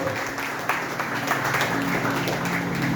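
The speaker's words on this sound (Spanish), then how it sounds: "Dale un aplauso al Señor." Applause during a church sermon, a steady wash of clapping from the congregation under sustained reverberant room noise and a low musical hum, with no clear gaps.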